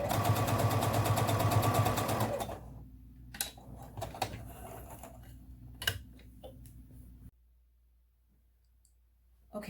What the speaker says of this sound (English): I'm going to sew the first seam.